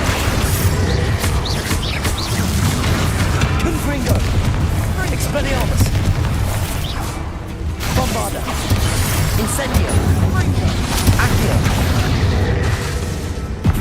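Bombarda blasting spell in the Hogwarts Legacy game, loud booming explosions and crashing impacts packed densely throughout, with a brief dip midway before another run of heavy blasts.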